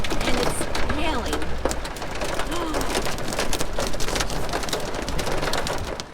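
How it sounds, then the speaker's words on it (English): Hail and heavy rain drumming loudly and continuously on an RV on a flooded stretch of I-94 in Montana, a dense, unbroken clatter with a faint voice briefly under it. "So we've come upon a piece of the road that's flooded, and it's hailing."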